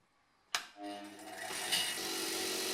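A bench grinder cleans up welded threads for a BMW E30 325i chassis: a sharp start as it spins up at half a second, then a steady loud whirring hum that builds and holds, with no talking.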